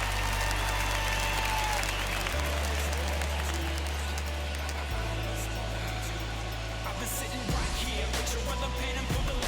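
Home crowd applause and murmur in the baseball video game MLB The Show 21, a loud, continuous stadium roar over a low steady hum, with no pauses.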